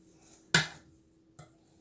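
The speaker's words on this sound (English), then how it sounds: "mix it with our potato masher also" A potato masher works through a mix of chicken and potatoes, giving two brief squelchy clacks, one sharp and louder, the other softer a moment later, with no talk.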